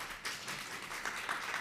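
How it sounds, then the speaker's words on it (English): A short burst of steady audience applause for panelists at a library community event, fairly even and moderately close throughout. "Let's give a big round of applause to both of them."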